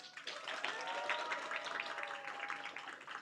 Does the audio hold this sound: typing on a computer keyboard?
no